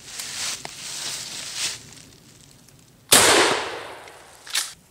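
A gun fires buckshot into a carbon fiber target outdoors, one sharp loud blast that decays over about a second, with fainter scuffs and thumps before and a small knock after, and no voices.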